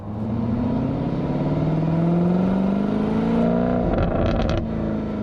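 A Jaguar F-Type R's 5-liter supercharged V8 drones and revs steadily, its pitch rising and falling, with some mechanical clatter near the end; no talking.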